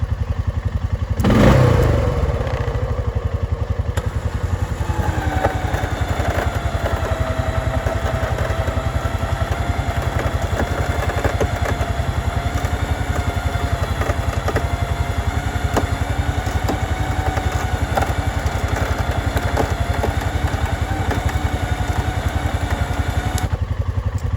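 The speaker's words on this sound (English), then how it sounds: "I gotta hold both brakes on the four-wheeler" A four-wheeler ATV engine idling and running nearby, a steady loud rumble with slight revving and mechanical clatter, after a brief knock near the start; no talking.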